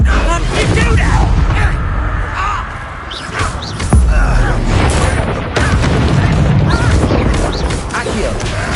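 Repeated Confringo blasting spells in Hogwarts Legacy, a series of booming impacts and crashes scattered through dense, loud game combat noise, with a sharp burst near the middle and heavy low rumble throughout.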